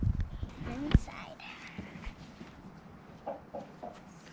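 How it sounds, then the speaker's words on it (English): Chickens clucking inside a new coop, several close soft clucks and squawks with one sharp louder call early on, mixed with low nearby voices. "The chickens want to get out."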